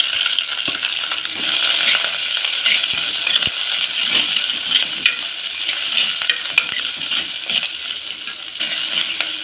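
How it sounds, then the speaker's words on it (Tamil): Onion, garlic, crushed green chilies and curry leaves sizzle steadily in hot oil for a coconut-milk rasam, with a spatula scraping and clinking against the pan close up throughout and no talking. "கருவேப்பிலை ஒரு கொத்து பச்சை மிளகாய் ரெண்டு இடித்து வெங்காயம் பூண்டு எல்லாத்தையும் போட்டு நல்லா வதக்கலாம்"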